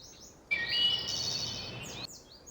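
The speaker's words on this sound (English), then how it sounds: "Man, that bird was loud." A loud bird call rings out in the woods of the Gabriel Knight game: one sustained, piercing warbling cry lasting about a second and a half, close and alone, with quieter chirps before and after.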